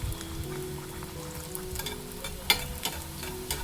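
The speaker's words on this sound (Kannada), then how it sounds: "ಇವಾಗ ಒಂದೊಂದಾಗಿ ಇದ್ರೊಳಗಡೆ ಈ ಥರ ಪುರಿನ ಕರ್ಕೋಬೇಕು" Puris made from wheat flour and semolina fry one by one in a little oil in a pan, a continuous close sizzle with a sharper crackle as dough goes in, heard alone without talking.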